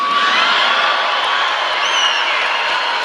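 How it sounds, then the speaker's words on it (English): A large political rally crowd at a Wisconsin Saturday-night event roars continuously with cheers, whoops and shouts, a dense, loud, sustained wall of voices with no pause. "Boy, this crowd has a lot of enthusiasm"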